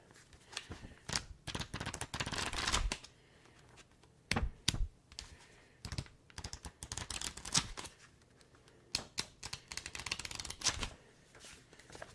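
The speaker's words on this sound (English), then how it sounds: "This one has more pages, so we can do page flipping a little better." Pages of a thick paper book are flipped close up in quick rustling bursts, with brief pauses between the flurries of papery flutter.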